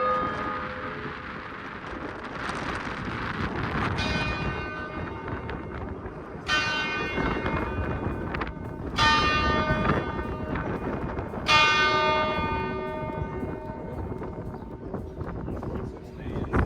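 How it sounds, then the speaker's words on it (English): Church tower bells ring loudly in Cádiz, Spain, heard from up close with several resonant strikes spaced a few seconds apart, each decaying slowly over heavy wind noise on the microphone. "let's wait for the bells to ring"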